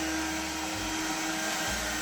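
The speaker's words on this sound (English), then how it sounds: "And vacuum the window down." A cordless window vacuum sucking water off a window pane, giving a steady close-up motor whine with a low gurgling shift partway through, loud and continuous with no talking.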